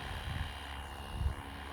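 A Flywing Bell 206 RC model helicopter lifts off slowly, its rotor and motor giving a soft, steady whir with faint low thumps, heard from a moderate distance.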